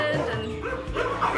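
Dogs at a sanctuary housing hundreds of rescued dogs bark and yip in quick, overlapping bursts at mid distance, mixed with a person talking.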